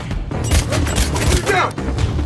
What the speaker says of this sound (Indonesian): setelah menembak salah satu mafia, Frank melarikan diri bersama Apa